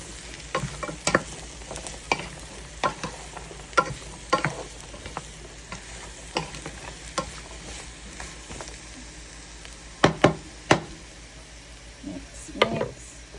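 Pinakbet vegetables with squash, and tofu, being stirred in a pan: a steady run of scraping, clattering strokes over a soft sizzle, with a few sharper knocks toward the end and no talking.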